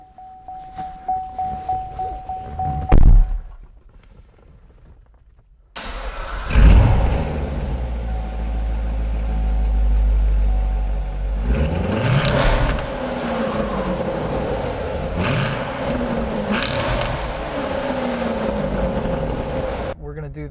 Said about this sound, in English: I'm going to go ahead and hop in it and give you an exterior sound clip.